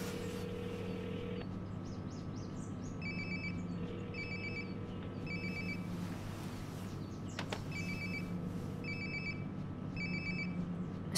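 A phone rings repeatedly in a quiet room in the video game Life is Strange: Before the Storm, its bright electronic ringtone bursts recurring in a steady pattern over a low ambient hum, with no talking.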